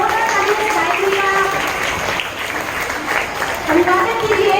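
Applause from a school audience of children greeting a student performer at a Hindi Diwas event, steady broadband clapping throughout with a voice speaking over it.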